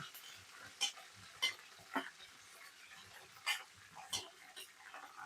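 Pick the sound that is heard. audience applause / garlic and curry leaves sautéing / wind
garlic and curry leaves sautéing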